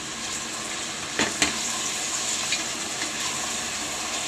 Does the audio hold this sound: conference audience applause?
no